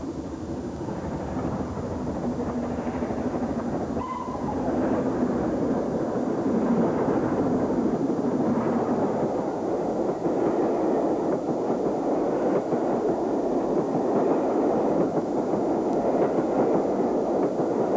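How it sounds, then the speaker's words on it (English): An S-15 steam locomotive hauls the Southampton to Salisbury train in torrential rain, heard as a steady, loud rumbling roar mixed with the hiss of heavy rain, with no voices. "In torrential rain, the S-15 heads the Southampton to Salisbury train."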